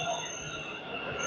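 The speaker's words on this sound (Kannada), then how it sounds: "ಮೆಟ್ರೋ ಬಂತು" A Bengaluru metro train pulls into a station with a brief, high metallic wheel squeal and a steady rumbling hum, heard briefly from the platform.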